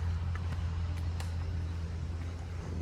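A 2010 Cadillac Escalade ESV, an auction vehicle covered in graffiti, sits with its engine idling in a low, steady rumble, with faint clicks and knocks over the hum.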